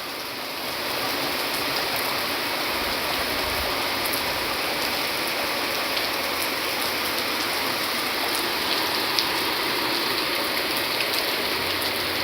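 Heavy continuous rain pouring down at a farm with cattle on an evening, a loud unbroken roaring hiss of rainfall with no talk.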